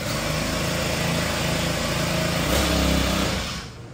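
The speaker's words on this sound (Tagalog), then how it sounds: "Ito po yung inyong backpack grass cutter" A backpack grass cutter's small engine runs close by with a steady, buzzing drone and slight pitch wavers, then eases off in the final half-second.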